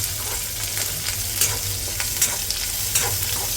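Two or three finely chopped green chillies fry in hot oil for thin poha chivda, giving a steady, close sizzle with scattered sharp crackles and pops throughout.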